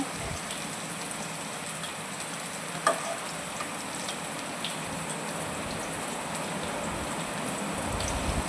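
Chopped vegetables and onions (potato, carrot, capsicum) fry in hot oil for vegetable poha, a steady close sizzle with one brief clink partway through and no talking.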